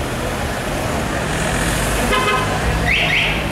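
Busy city street near a skyscraper, many cars passing with a steady roar of traffic and a short car horn toot near the end.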